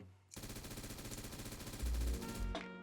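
An M416 rifle with no attachments fires full-auto in the Roblox game Flashpoint. A rapid, even stream of close shots runs for over two seconds, then stops with a short mechanical clatter.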